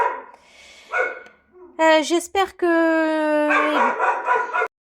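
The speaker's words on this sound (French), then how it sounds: "Le chien aime bien aboyer après les passants." A dog barks at people walking past, loud close yips and a whining bark in the middle, with someone speaking French before and after.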